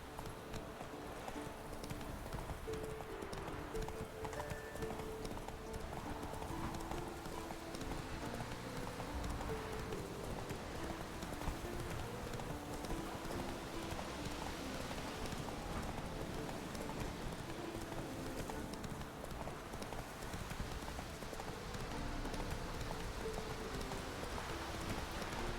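A horse's hooves clip-clop in a steady, rhythmic run through The Witcher 3 video game. The hoofbeats stay fairly quiet and continuous, with a faint rain-like patter underneath.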